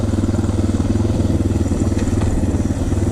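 A Suzuki DR650 dual-sport motorcycle engine thumps steadily and loudly while riding, a close, even pulsing drone throughout.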